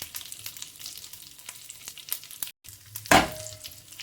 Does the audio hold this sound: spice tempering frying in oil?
yes